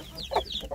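Chickens and young chicks in a coop give a few soft, close clucks and short peeps in quick succession.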